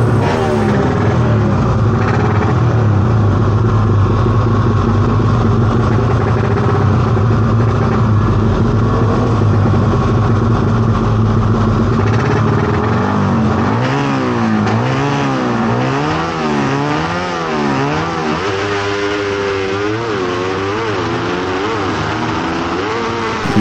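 Pushrod motorcycles in a legal drag race rerun, bracket B, engines roaring loudly and continuously, revving hard with rising and falling pitch as they accelerate down the strip.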